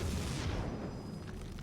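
A photon cannon explodes as it is destroyed during a StarCraft II match, heard as a loud, dense boom with a broad rumbling burst that fades into sustained low, noisy game-battle sound.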